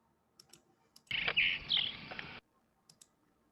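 Bright, varied mockingbird song played from a recording, with quick whistled phrases and chirps, a loud burst in the middle, surrounded by a few faint clicks.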